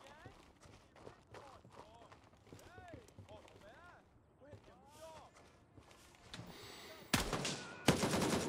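Gunfire in Gray Zone Warfare, a military shooter game, with scattered shots in the distance and two loud, close bursts near the end, heard under steady voices talking throughout.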